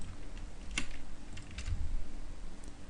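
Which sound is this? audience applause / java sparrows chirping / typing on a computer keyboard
typing on a computer keyboard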